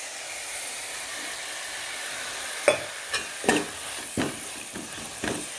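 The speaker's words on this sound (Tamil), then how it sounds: "இப்போ முருங்கைக்கீரையும் கொட்டி நல்லா வதக்கிடலாம்" Drumstick leaves sautéed in a pan for a tamarind-style kuzhambu, a steady close sizzle and hiss broken by several sharp scraping stirs of a spoon against the pan.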